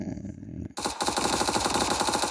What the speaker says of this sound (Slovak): to asi už strieľa s niekým